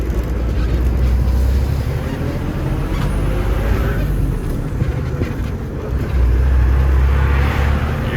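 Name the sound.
Ford L9000 truck driving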